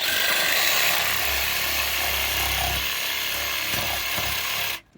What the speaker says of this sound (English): So I'm gonna use a jigsaw on that one.